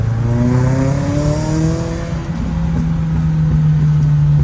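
A Volkswagen Golf GTI Mk1 16V drives nearby, its engine humming loud and steady with rising and falling revs and a few brief crackles from the exhaust.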